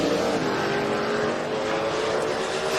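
An S10 pickup truck with a swapped motor drag racing down the track at a race event, its engine roaring loud and steady throughout with no voices over it.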